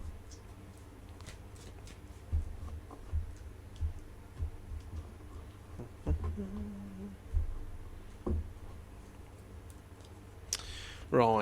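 Tarot cards are shuffled by hand: soft irregular riffles, slaps and clicks of the deck, with a brief low murmur partway through and a rustle near the end.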